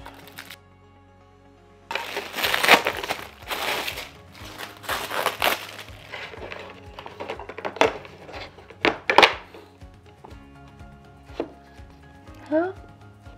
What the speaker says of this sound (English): Okay, let's just unwrap the stand.